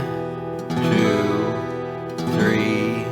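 Guitar chords are strummed slowly in steady time, a full ringing strum sustaining before a second strum comes in, close and clear with no voice over it.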